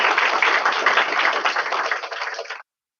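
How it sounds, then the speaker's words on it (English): Audience applause after a talk on the future of electronics at IISc Bangalore: dense, even clapping at close range that holds steady, thins slightly, then cuts off abruptly before the end. "I can have a big round of applause to her also."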